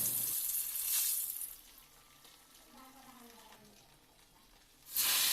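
Cinnamon, cardamom and two bay leaves dropped into hot oil for tempering meat, giving a bright crackling sizzle that is loud at the start, settles low in the middle and surges again at the end.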